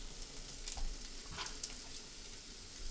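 Squash and zucchini sizzle in a hot pan, a soft, even crackle with faint scattered pops throughout.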